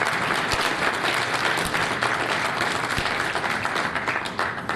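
A large audience at a youth parliament event claps steadily, a thick continuous patter of many hands that holds at an even level and eases slightly toward the end.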